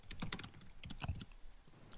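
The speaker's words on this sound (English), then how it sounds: "Can you hear him typing?" Keystrokes on a computer keyboard during a radio show, coming in quick irregular clusters of sharp clicks, fairly faint and close, with no talking.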